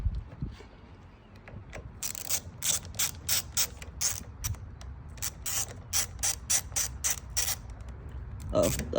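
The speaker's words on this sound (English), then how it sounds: "Tighten that all the way down, just a little bit past hand tight." A ratchet tightens a bolt on a 2018 Kawasaki Ninja Z125 Pro, a close run of quick rhythmic clicking strokes in repeated bursts, with soft handling noises between.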